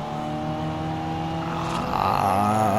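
A small car in a racing video game revs steadily, its engine note climbing and wavering as it accelerates, loud and continuous with no talk over it.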